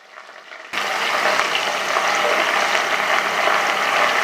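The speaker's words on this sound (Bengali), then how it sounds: "পেঁয়াজটাকে দিয়ে প্রথমে 5 মিনিট খুব ভালো করে পেঁয়াজটাকে ভেজে নেবো" Onions dropped into hot oil with crackled panch phoron for a Bengali fish-head pui shak dish: brief quiet, then a sudden loud sizzle that holds as a strong, continuous hiss.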